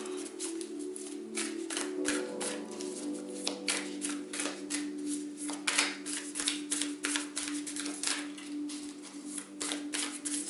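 Cards are shuffled over and over in crisp, rapid riffling bursts close to the microphone, under a steady low hum, with no talking.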